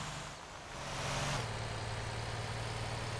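A semi truck engine in the Motor Town driving game hums steadily, rising in revs before an abrupt shift drops it to a lower, even drone. The sound is fairly quiet overall.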